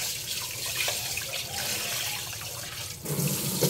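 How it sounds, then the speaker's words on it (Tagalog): Running water while rice is washed, a steady close splashing rush from a tap into a container with a slight shift in tone near the end. "katulong na nga hugasan niyo ang bugas"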